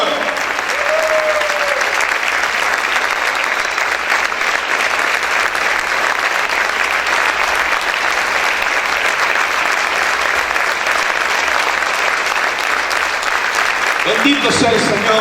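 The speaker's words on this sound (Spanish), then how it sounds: "Aplaude fuerte a tu Señor" A church congregation claps loudly and continuously for about fifteen seconds, a dense, even roar of applause close by, with a brief voice near the start and talk breaking in at the very end.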